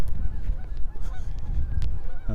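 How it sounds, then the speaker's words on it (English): Geese honking on a snowy December walking path in Regina, a steady chorus of repeated honks close by, loud and continuous with no talking. "see, there's still geese."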